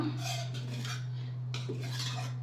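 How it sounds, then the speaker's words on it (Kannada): A spoon mashes cooked tomato in a pot of toor dal rasam, giving soft, irregular scraping and squelching clinks over a steady low hum. "ಹೀಗೆ ಟೊಮೆಟೊನ ಇದೇ ಥರ ಸ್ಪೂನಲ್ಲೇ ಮಾಶ್ ಮಾಡ್ಕೊಂಡ್ಬಿಡ್ಬೋದು"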